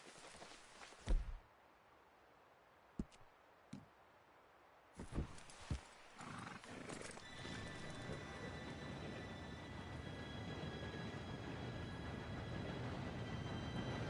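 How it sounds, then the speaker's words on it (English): A steam train pulls in within the Red Dead Redemption 2 world: a few scattered thumps and footsteps, then a steadily building rumble and hiss with faint whistle-like tones that grows and holds loud to the end. "Train should be here any minute now"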